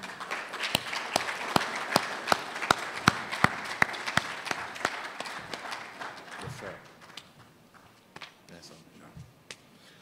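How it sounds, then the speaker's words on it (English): Audience applause welcomes an architect at a Ghana Institute of Architects annual general meeting, with sharp, regular claps standing out over a broader crowd, then tapering off into sparse claps and faint room sound. "with a big round of applause, please help me welcome architect Richard Nidade"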